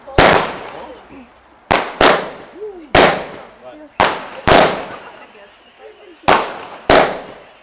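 Firecrackers going off outdoors on Bonfire Night, a series of sharp, loud bangs at irregular intervals, each ending in a brief crackling decay, with people chatting and cheering between the blasts.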